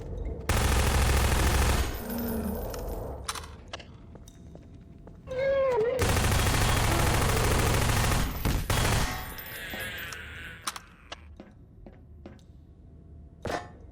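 Submachine gun fire crackles in two long, loud bursts during a Half-Life 2 Episode 2 mod called Exit 2, separated by short game effects and mewing, synthetic-sounding tones.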